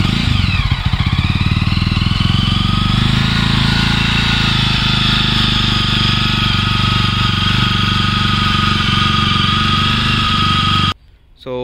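A 2019 Jawa 42 Classic 300cc EFI motorcycle engine runs steadily and loud close by, with a continuous low throbbing idle for about eleven seconds before cutting off abruptly near the end.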